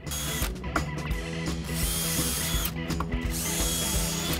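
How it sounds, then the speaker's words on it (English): Power drills driving screws into wood for a tabletop whir continuously, revving up and down in overlapping bursts, with several tools running at once, close and loud. "we're going to pre-drill, put our screws in, and then we're done."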